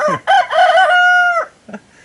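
A cockerel on a UK smallholding gives one full, loud crow close by, a rising opening followed by a long sustained note, then a short clucking call after a brief pause.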